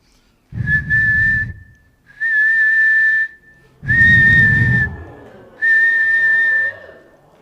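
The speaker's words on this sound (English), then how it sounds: "You can never whistle into a microphone. You have to whistle on the side of a microphone." A person whistles a tune beside a microphone at a church talent show, in four loud sustained phrases separated by short pauses, with a low breathy rumble under the first and third phrases.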